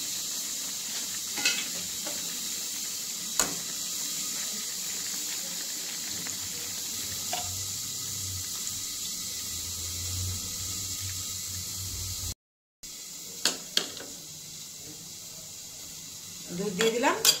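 Milk poured into a pan of sautéed spice mix while cooking a Bengali shukto with chhana balls, giving a low steady sizzle with scattered utensil scrapes and stirring taps, plus a few louder clinks near the end.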